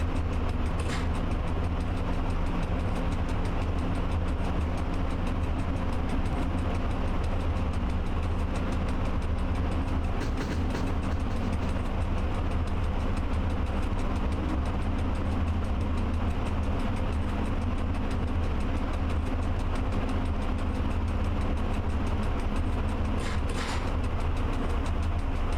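A train shunts at 40 in the Train Driver 2 simulator game, giving a continuous low rumbling drone with a steady hum and a few faint metallic clanks, with no voices.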